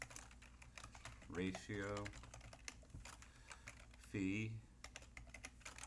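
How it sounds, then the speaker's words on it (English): Someone types on a computer keyboard while building a spreadsheet table. The soft, rapid clicks run throughout beneath two short stretches of a man's speech. "what am I typing?"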